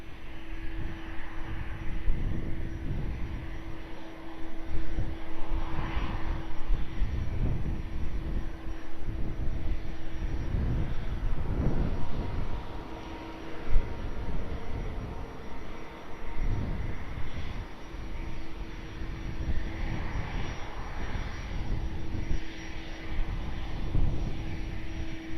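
A passenger airliner climbs out from runway 20 at Lisbon Airport, its engines a steady, broad roar that swells and fades slightly over a long stretch, heard from a distance with a faint tonal hum.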